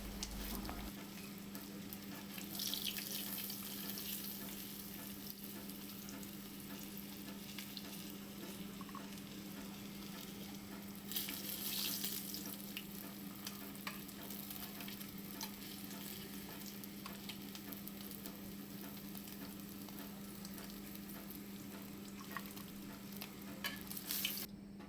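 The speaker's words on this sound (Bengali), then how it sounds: "বেশি ফ্রাই করার দরকার নেই, এইভাবেই ফ্রাই করে নেবে।" Rohu fish pieces frying in hot oil in a kadai give a steady, close sizzle with light stirring and scraping throughout, and no talk over it.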